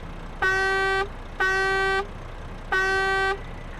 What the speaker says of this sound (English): The horn sounds like some kind of air horn